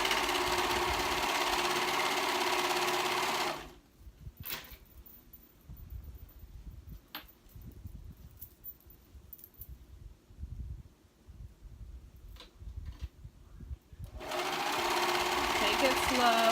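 A sewing machine stitches one side of a reversible dress at a steady, close hum lasting about ten seconds, with louder broadband sound before and after.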